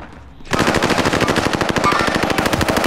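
Sustained machine gun fire in a video game starts abruptly after a quiet moment and rattles on in a steady, fast, loud stream of shots.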